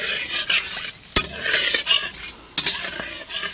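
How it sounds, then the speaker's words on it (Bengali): Whole garam masala, bay leaves and dried red chillies tempering in hot oil left from frying katla fish, a steady close sizzle and crackle broken by sharp clinks and scrapes of a metal spoon stirring the pan. "দই কাতলা করব, মাছ ভাজা তেলে ফোড়ন দিচ্ছি।"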